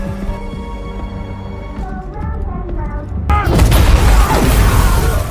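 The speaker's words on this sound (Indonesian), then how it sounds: "Anak buah McCaffrey pun mendapat kejutan berupa ledakan yang disiapkan oleh Dan" A sudden loud blast bursts in after a stretch of tense music, with a broad rumbling roar that lingers for a couple of seconds.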